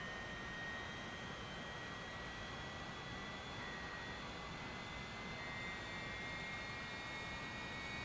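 The engine of a LEGO Dark Falcon aircraft in a video game makes a continuous, even jet-like drone as it tries to start up during a dive on one engine, with faint high whine tones and no talk.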